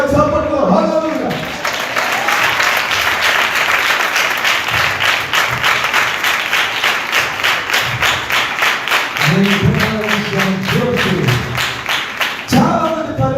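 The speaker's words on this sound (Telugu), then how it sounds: "నిలకడ కలిగిన చప్పట్లు" Steady applause from a church congregation during a Telugu worship service, sustained rhythmic clapping that fills the space, with a voice preaching over it at the start and again near the end.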